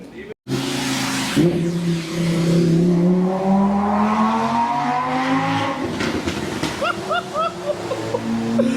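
Lamborghini Huracán Tecnica on the wet Nürburgring Nordschleife, engine note rising and falling through gear changes at close range, with a voice talking over parts of it.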